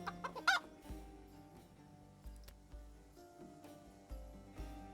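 A chicken clucks in the video game Titan Quest 2, a few short, quiet clucks near the start followed by soft, scattered game sounds.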